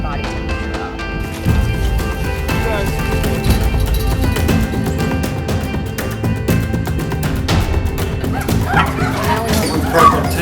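A small, dehydrated rescue dog whimpers and yips, with high whines and short barks mixed into a noisy, crowded scene that has other dogs and people talking.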